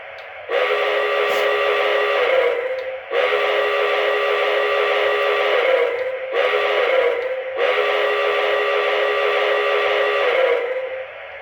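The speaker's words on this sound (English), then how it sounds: "here's, the whistle" Sound-system whistle of an MTH Railking Pennsylvania K4 model steam locomotive, four loud, sustained chord-like blasts of varying length separated by short gaps, clear and close with no talking.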